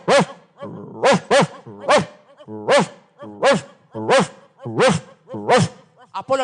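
A person imitates a dog barking with their voice: a dog kept in a cage at home, barking at someone talking on the road. About nine loud, evenly spaced woofs, each with a vocal edge, fill the stretch with no other talk.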